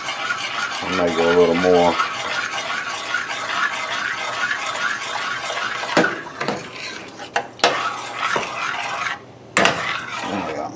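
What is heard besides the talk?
stirring a mixture from a can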